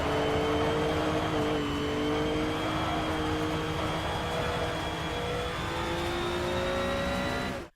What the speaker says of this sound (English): how does driving a 70s Porsche 911 round Rouen sound?